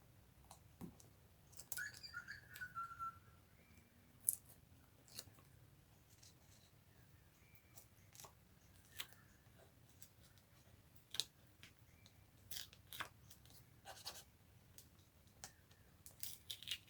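Scissors snipping paper pieces for a Stampin' Up! watercolour card, a quiet scattering of short crisp cuts and ticks at irregular intervals against a soft room hush, with no talking.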